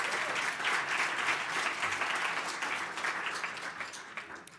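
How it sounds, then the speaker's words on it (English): Steady applause from an audience at a youth advocacy foundation's annual spring celebration, fairly loud at first and gradually thinning out over a few seconds. "So can we just give them a really round of applause?"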